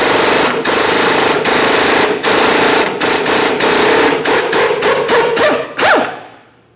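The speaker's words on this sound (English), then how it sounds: "Use a 17mm to remove this bolt." A power tool on a 17mm socket removes a pinch bolt from a Ford Transit-250 front steering knuckle, giving loud, close, rapid impact hammering in repeated bursts with short pauses before winding down.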